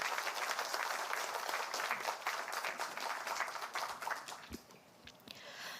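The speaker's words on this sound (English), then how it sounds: "Huge round of applause to him." Sustained applause from an audience at an inauguration ceremony for a centre of excellence, honouring a guest; dense clapping holds steady, then thins out near the end.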